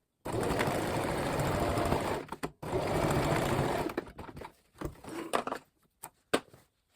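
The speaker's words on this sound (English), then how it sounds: "So I'm going to do a row of straight stitching just behind the waistband where the elastic starts." A sewing machine runs a row of straight stitching on jeans behind the waistband, where the elastic starts. It rattles in two long, close bursts, then gives a string of shorter stop-start runs and clicks toward the end.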